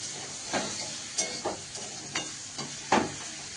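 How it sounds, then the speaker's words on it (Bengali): Onions frying in a pan with cumin seeds and green chilli give a quiet, steady sizzle, broken by a few soft stirring scrapes spaced about a second apart. "আর পেঁয়াজটা একটু ভাজা ভাজা হয়ে আসলে ফোড়ন আর সর্ষেটা দিয়ে দেবো"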